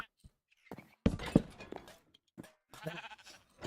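Sheep bleat in Minecraft in short, wavering bursts spread across a few seconds, a couple louder bleats standing out among quieter ones, with no talking.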